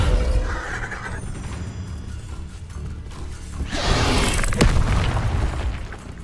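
The Descendo spell is cast in Hogwarts Legacy, a booming magical impact with crashing, rumbling debris that swells midway and rings out loudly, with no voices present.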